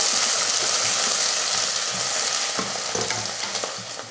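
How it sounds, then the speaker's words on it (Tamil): Two large onions sautéing in hot oil with cinnamon, cardamom, cloves and bay leaf, a steady loud sizzle and crackle with occasional stirring scrapes, close and without talk. "வெங்காயத்தை நல்லா வதக்கிடுவோம்."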